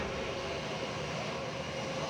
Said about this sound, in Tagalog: Last 9:20 sa nagugpang ining eroplano sa Bacolod Silay Airport.